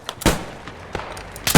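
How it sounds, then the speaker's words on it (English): An M3 grease gun submachine gun fires in the Post Scriptum game, with a few short, sharp bursts of gunfire separated by brief pauses, fairly loud and close, and no talking. "that's a goddamn grease gun going on"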